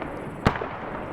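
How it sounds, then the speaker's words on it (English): A single bombing explosion in a large multiplayer PvP video game raid, one short muffled blast somewhat distant, over a quiet background hum. "what is getting bombed?"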